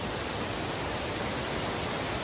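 Two waterfalls along an easy Oregon hiking trail, their broad steady roar of falling water filling the scene loudly and continuously with no voices.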